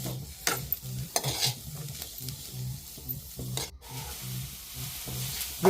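A spoon scrapes and stirs palya roasting in a pan, with soft, steady sizzling underneath and a run of regular, close scraping strokes that keep going without a break.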